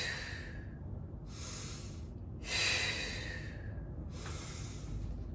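Someone does deep abdominal breathing during exercise after Covid recovery. Soft, close breaths come in several airy pulses, with one longer and fuller inhale near the middle, against quiet room noise and no talk.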